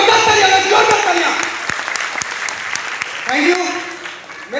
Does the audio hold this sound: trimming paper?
no